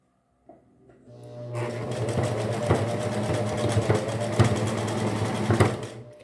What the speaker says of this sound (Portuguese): Começa aqui da parte mais estreita, porque eu tô usando a minha máquina doméstica.